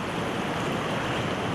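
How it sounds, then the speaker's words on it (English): Rushing whitewater from rapids and waves on the Hiwassee River in Tennessee, a steady broadband roar filling the whole stretch without any pause, heard close by and with no voices over it. "you want to try to catch all the waves and eddies you can"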